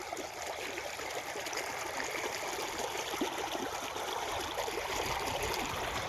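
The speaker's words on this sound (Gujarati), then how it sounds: "આ પાણી આવે છે ખાડામાંથી. અહીંયા થોડુંક ફૂટી ગયું છે." Water flows out of a pit in a farm field through a slightly broken spot, a close, steady trickling and gurgling rush that runs unbroken throughout, with no one speaking.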